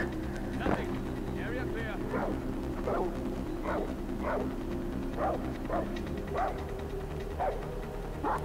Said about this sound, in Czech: Slyšíme tady furt nějaký psy.